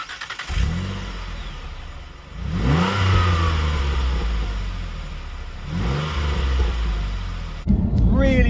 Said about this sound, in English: Really nice induction noise and the V6 sound you get from it, exhaust tone as well